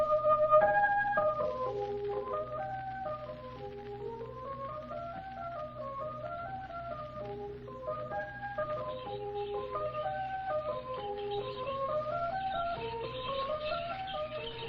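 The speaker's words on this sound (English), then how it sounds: "to blow his pipe his lips he wrinkled" A pipe plays a winding, repeating melody for the Pied Piper in a 1944 radio drama of the classic poem, steady and moderately loud over a low sustained drone, with no voices.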